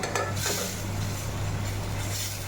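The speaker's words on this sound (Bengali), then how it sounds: "এটা কিছুক্ষণ বাদে বাদে নাড়তে থাকবে" A spoon scrapes and stirs a cashew-paste curry for a pabda fish dish in a pan, giving soft steady scraping under a constant low hum, with no talk.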